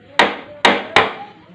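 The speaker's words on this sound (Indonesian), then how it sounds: "Langsung aja kita kencengin pakai pukul atau pakai palu ya." Three sharp hammer blows, close and loud, strike a part to tighten it while fitting a shock absorber with a Ninja RR New bracket on a Kawasaki Ninja motorcycle, each hit ringing briefly before fading.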